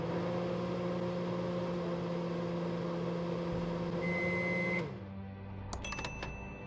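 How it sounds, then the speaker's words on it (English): A microwave oven hums steadily in the video game Thimbleweed Park, a low, even drone that cuts off abruptly, followed by a few brief high electronic tones as it finishes. "Ding. Well, at least it's a working microwave oven."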